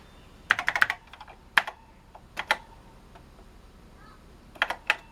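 Someone types on the keyboard of a Tatung Einstein computer, producing irregular bursts of clicky keystrokes with short pauses between them, close and clear in a quiet room.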